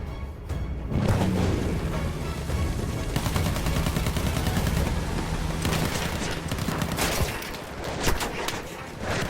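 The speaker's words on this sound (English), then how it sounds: "Come on, AA gun, get him." An anti-aircraft gun fires in Battlefield 1 during the Gallipoli invasion: loud, dense bursts of rapid gunfire that continue almost without a break, with booming reports mixed in and a constant engine roar beneath.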